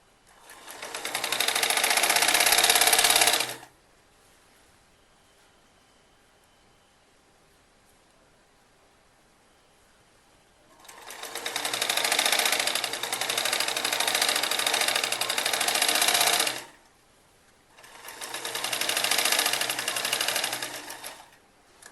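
Sewing machine stitching a kurti with a back-neck dori design: three loud, steady runs of rapid mechanical whirring, close by, separated by quiet pauses.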